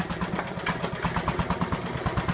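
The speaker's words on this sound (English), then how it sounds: "It's like an old hit and miss, like agricultural engine." An old hit-and-miss agricultural engine, a small engine, chugs with a rapid, uneven train of thumping firing pulses that sounds slightly labored, close and fairly loud, with no voices.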